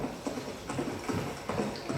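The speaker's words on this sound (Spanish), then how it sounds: "se oyó el rumor de un caballo que se alejaba al galope" Horse hooves clip-clop in a steady, even rhythm, a galloping sound effect played under a Spanish reading, moderately loud and close with no voice over it.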